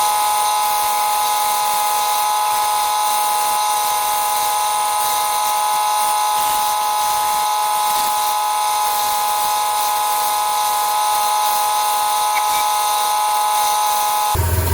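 Steady whirring of a wood lathe spinning a wooden coffee tamper while it is sanded, a constant loud hum with bright tonal whine throughout, no voices.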